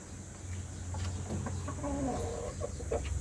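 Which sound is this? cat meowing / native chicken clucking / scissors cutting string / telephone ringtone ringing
native chicken clucking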